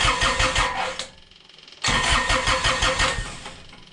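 A Kubota D902 diesel engine cranks over with its fuel stop valve tied off, giving a loud, rapid rhythmic chugging that pauses briefly partway through and then resumes.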